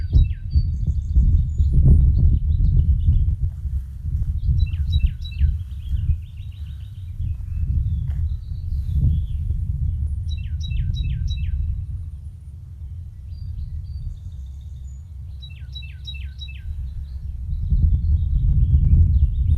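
Three different wild birds sing in turn, short bright phrases repeating every few seconds, clear but fairly distant over a constant low rumble of background noise.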